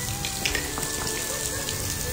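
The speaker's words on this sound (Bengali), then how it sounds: "এই যে পানি পড়ছে বৃষ্টির মতো উপর থেকে, উপরের ঝর্ণা থেকে দেখুন" Water spatters down like rain from a waterfall above a hiking trail on the Indian Ladder Trail in New York, a brief, steady patter and splash with a faint tone running beneath it.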